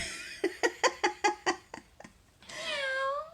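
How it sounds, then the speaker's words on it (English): A robotic toy cat gives a quick string of short chirping pulses, a brief pause, then one long, drawn-out meow. "Oh, that's a funny way to meow."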